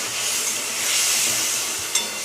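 Water poured into hot oil with frying coriander, cumin, Kashmiri chili, other chili and turmeric sets off a loud, steady hiss of sizzling that swells slightly, then settles, with a brief clink near the end.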